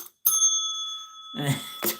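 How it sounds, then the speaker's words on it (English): A small hand bell gives a single bright, ringing strike that rings on for about a second before a person begins talking over the fading tail. "And of course, I have my Magic Bell here,"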